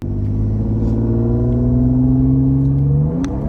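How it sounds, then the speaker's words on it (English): An Audi S5 engine drones under load as its transmission slips, pitch sliding upward steadily for about three seconds before a sudden drop as it catches fourth gear, heard loud from inside the car. "It like slipped completely and then went right into 4th gear."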